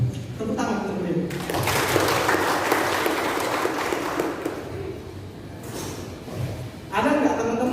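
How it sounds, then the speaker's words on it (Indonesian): Applause at a university entrepreneurship seminar swells into dense, sustained clapping from the audience. It fades near the end as a speaker's voice resumes. "Tepuk tangan untuk beliau."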